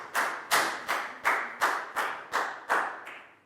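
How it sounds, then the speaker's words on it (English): A primary classroom of children claps in unison for a classmate, about eight sharp, evenly spaced claps in a steady rhythm, close and loud, with no talking. "High five and a big round of applause for Pangpon"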